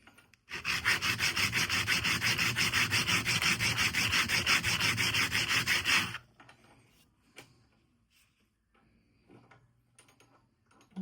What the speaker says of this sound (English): It's an easy task with those coarse diamond stones.